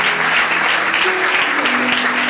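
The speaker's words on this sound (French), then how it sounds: "Let's clap for the word of God." A church congregation claps together in a dense, loud burst of applause lasting a couple of seconds.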